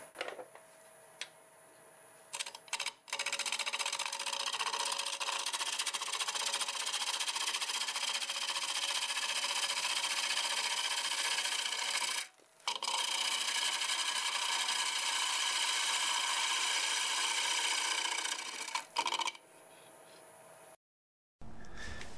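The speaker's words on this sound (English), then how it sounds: "I'm just going to clean up the inside with the 1/2-inch bowl gouge." A 1/2-inch bowl gouge cleans up the inside of a wooden bowl spinning on a lathe at about 900 RPM. Steady, loud cutting noise runs nearly the whole time, broken by a couple of brief pauses and ending in silence.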